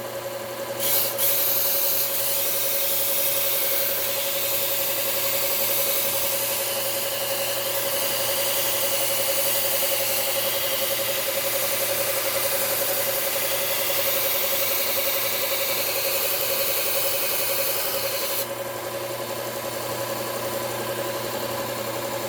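A belt grinder runs with a steady, loud motor drone and hum while a mower blade is ground against the belt, holding an even tone throughout before dropping slightly near the end.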